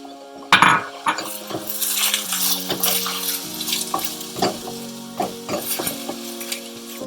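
Green pepper and peas being stirred in a hot pan, a steady sizzle broken by irregular scraping and clinking strokes of a spoon against the metal, with a sustained musical tone running underneath.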